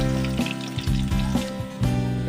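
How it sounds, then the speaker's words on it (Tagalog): Garlic sautés in a magic wok until golden brown, a steady close sizzle with a few louder bursts as the pan is stirred. "Igisa na natin yung ating bawang dito guys"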